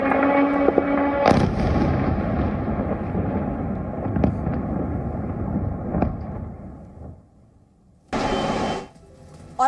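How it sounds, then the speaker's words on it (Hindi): Missile strike explosions over Kyiv, a loud sustained blast rumble, then a sharp crack near the start, fading into quieter rumbling before a second harsh burst near the end. "आप देखिए कैसे मिसाइल अटैक भी हुआ है और एक के बाद एक इन धमाकों से कीव दहल गया"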